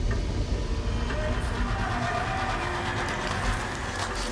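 A train rolls past in the open-world shooter Far Cry 5, a steady loud rumble of rail cars and wheels filling the whole stretch without a break.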